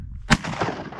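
A single sharp shotgun blast at a pond duck hunt, loud and close, with a short echoing decay and a soft rustle afterward and no talk.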